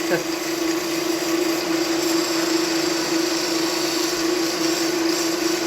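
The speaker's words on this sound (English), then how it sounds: "I'm basically just kind of doing my final shaping with the sandpaper" Steady, loud whir of a lathe with a sustained tonal hum as 40 grit sandpaper shapes a small baseball bat keychain turned from firewood, continuous and close with no breaks.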